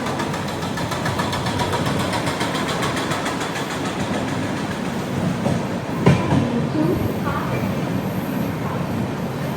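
The Humsafar Express runs fast through local stations near Kalyan Junction, heard from on board as a steady loud rumble with rhythmic clickety-clack over the rails and a sharp clank partway through.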